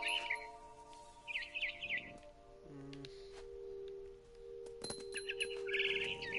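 Bird chirps from the video game What Remains of Edith Finch, set up in a big tree, come in short bright bursts at the start and again near the end, over a steady tonal game hum, with no talking.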